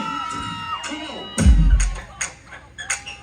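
A live concert crowd at a dancehall show screams and cheers in bursts, loud and close, mixed with shouting voices and a thumping low-end hit.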